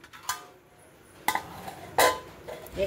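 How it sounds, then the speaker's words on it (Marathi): A metal lid clatters onto a pot of vermicelli rice (shevyacha bhaat) cooking over low gas, giving a few sharp clinks and a louder scraping clank, close by. "आता आपण झाकण ठेवतोय ह्याच्यावरती"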